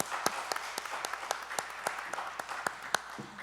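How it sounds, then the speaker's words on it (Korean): A church congregation claps during a Sunday morning service, a quiet, somewhat distant patter of scattered claps with a few sharper hits standing out over three seconds. "건강 박수 올려드리십시다."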